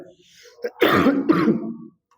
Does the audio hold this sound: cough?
yes